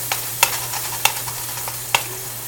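Ground beef sizzles softly in a pan for quesadillas while a utensil scrapes and taps the pan four or five times, sharp clicks over a low steady hum.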